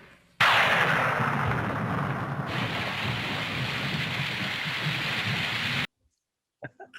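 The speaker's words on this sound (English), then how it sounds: "Could be raining." Heavy rain pours steadily as a loud, dense roar, with a deep rumble of thunder underneath, then cuts off abruptly to silence.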